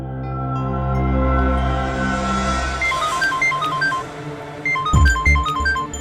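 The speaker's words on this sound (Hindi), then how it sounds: "उसी का फोन है।" A mobile phone ringtone plays a bright, repeating melodic pattern over a low musical drone in a TV crime drama scene, loud and near, with a sharp thump partway through.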